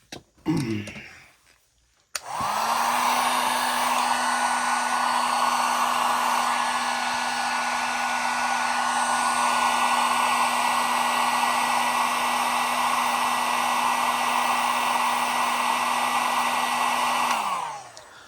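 A hair dryer or heat gun warms a custom action figure part, switching on after a short rustle and blowing a loud, steady whirring hum for about fifteen seconds before cutting off.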